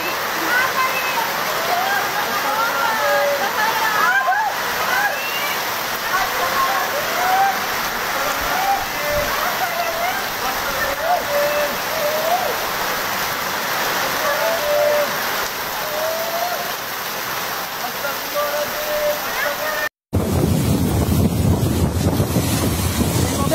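Strong wind from a whirlwind storm with rain sweeps over villages in Prajekan, Bondowoso, a steady loud roar and rush lasting throughout, with voices in the background, then a brief cut to harsher, closer wind buffeting the microphone.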